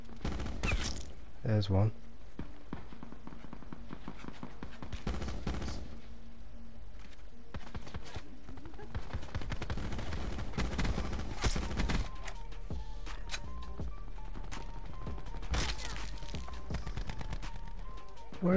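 Gunfire crackles through a Call of Duty Black Ops 4 Alcatraz Blackout match, with bursts of automatic fire and scattered single shots at varied distances throughout, alongside game noise, while a player briefly speaks.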